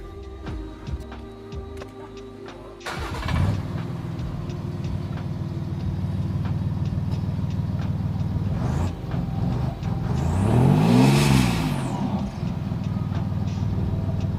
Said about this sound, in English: Want to hear how lame DPFs are?